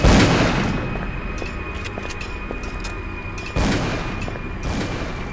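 Gunfire in Call of Cthulhu: Dark Corners of the Earth: a loud opening blast, then a scattering of sharp shots with a second heavy burst midway, over a steady tonal background hum.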